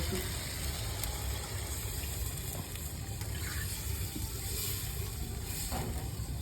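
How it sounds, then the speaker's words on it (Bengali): Water streams steadily into a cooking pot for a fish curry with potatoes and eggplant, a continuous close splashing gush with no voices. "বন্ধুরা এবার জল দিয়ে দিতে একটু"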